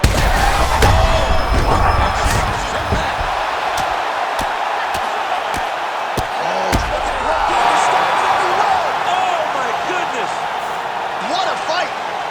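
A large arena crowd roars and cheers continuously after a TKO finish in the UFC 5 fighting game, a loud, sustained wall of noise with sharp thuds and bursts layered over it and a commentator's voice running through.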